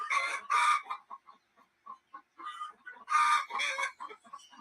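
Backyard hens sing the loud egg song, giving repeated squawking clucks in two bursts with quieter clucking between them. The birds are close and sound alone.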